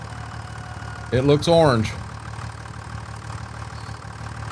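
A stopped tractor idles with a steady low chug throughout, close by, while someone speaks a brief phrase over the engine partway through.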